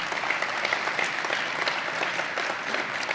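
Conference audience giving a round of applause for a company CEO at a university athletics event, sustained crowd clapping, loud and steady throughout.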